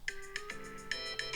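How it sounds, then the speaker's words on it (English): A phone ringtone plays as a voicemail notification sound, a clear electronic melody of repeated bright chiming notes over sustained tones, alone with no talk. "you can use ringtones for your new voicemail sound"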